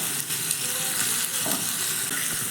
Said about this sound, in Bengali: কারি পাতাটা দিয়েও একসঙ্গে একটু নাড়াচাড়া করে ভেজে নিচ্ছি